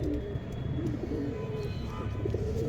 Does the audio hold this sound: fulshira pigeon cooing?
yes